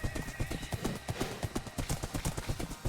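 Horse hooves clip-clop in a steady, fairly close rhythm while riding in Minecraft Bedrock hardcore mode, the repeated thuds continuing evenly throughout with no talk over them.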